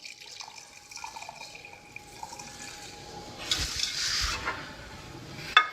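Sweet and sour sauce drained out of a cooking pan, a soft, close trickle and splash of pouring liquid that swells to a fuller gush before fading, with small drips and a brief clink at the end.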